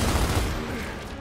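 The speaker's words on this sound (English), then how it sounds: "Someone's shooting us from behind." Rapid gunfire erupts in a Gears of War firefight, a dense, continuous burst of shots coming from behind, loud and sustained for about a second before easing slightly.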